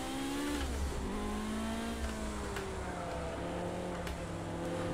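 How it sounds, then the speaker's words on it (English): A race car in Project Cars 2 drives through a corner, its engine droning steadily with shifting pitch as it slows and powers out, constant and up close with no talk. "Car goes into that corner nicely."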